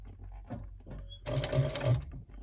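Sewing machine stitching a handbag, a short burst of rapid mechanical whirring after a few soft handling bumps and clicks, close and fairly quiet.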